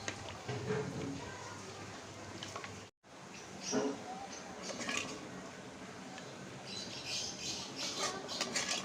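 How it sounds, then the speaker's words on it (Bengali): Cooked food scraped and spooned from a pot on a clay stove into another pot in a home kitchen, with soft clinks and scrapes under a steady background hiss and faint voices. "এখন এই হাঁড়িটাতে ট্রান্সফার করব"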